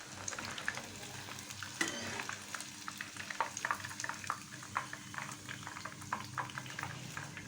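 Fish pieces coated in masala fry in a hot pan with oil, a busy crackling sizzle broken by stirring clicks and scrapes, close and fairly quiet, no voices.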